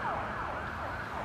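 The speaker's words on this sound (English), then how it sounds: "What are you going to do about this ambulance?" An ambulance siren wails steadily and loud, its repeated rising-falling sweeps flying past a car that has pulled over on a city street, with road noise underneath.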